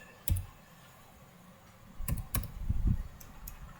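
Typing on a computer keyboard: a few sharp clicks come first, then a quick cluster of keystrokes, close up in a quiet room.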